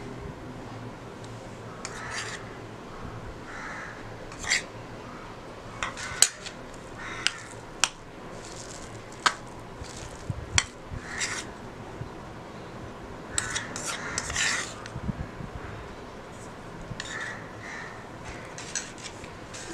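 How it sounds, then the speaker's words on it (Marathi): Cauliflower and potato pakoda ingredients being mixed in a bowl, soft wet squishing with scattered clinks of a spoon against the bowl, fairly quiet, and crows cawing in the background. "सगळं साहित्य आता व्यवस्थित मिक्स करून घेऊया।"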